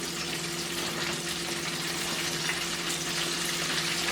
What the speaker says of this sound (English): So I'll let those fry up and then remove those and then add the second batch